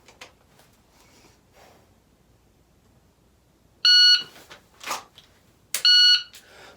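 A shot timer sounds two sharp electronic beeps during a dry fire draw, one near the middle and one toward the end, loud and close against an otherwise quiet room with a few faint clicks and rustles.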